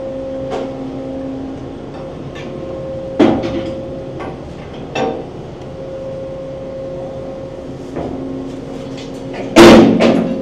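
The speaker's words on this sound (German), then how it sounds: "Tür zu." Heavy door on a ship closing as the vessel readies to leave a container port in Kotka, Finland, giving a few dull thuds and a louder final slam near the end over a steady engine hum.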